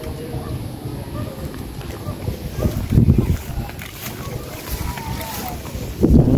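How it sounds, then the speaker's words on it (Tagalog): Strong wind gusts outdoors at a house site, a rough, rumbling buffet that swells and fades, with people talking over it. "Malakas ang hangin dito, nabaluktot."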